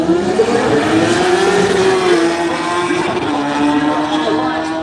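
Drag racing motorcycles on the start line at a racing event, a loud sustained engine drone whose pitch wavers and slowly dips, heard close and without speech.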